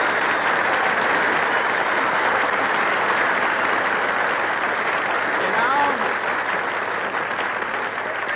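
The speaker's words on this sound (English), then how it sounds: "everybody in the Brown Derby applauds" Studio audience applause fills an old-time radio comedy scene set in Hollywood's Brown Derby restaurant: a dense, steady wash of clapping that runs loud and unbroken throughout, with faint voices murmuring underneath.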